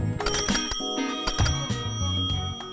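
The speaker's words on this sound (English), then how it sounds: "It has a great bell." Bright metallic rings from the bell of a 1940 Munich-built solid steel bicycle, several quick close dings in two clusters with ringing overtones that fade between strikes.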